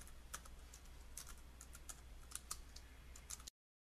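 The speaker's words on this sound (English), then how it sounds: "So I'm just going to type that in here." Quick keystrokes on a computer keyboard as a font name, Trebuchet MS, is entered, a steady run of close clicks with no talk, ending abruptly after about three and a half seconds.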